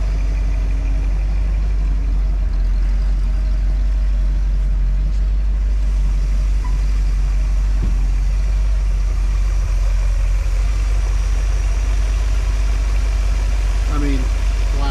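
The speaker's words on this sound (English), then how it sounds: "We got a power steering belt acting silly, but sounds like an angry rat in there." An ancient RV's engine, run after sitting for years, idles with a loud, steady low rumble and a faint squeal from a slipping power steering belt riding on top.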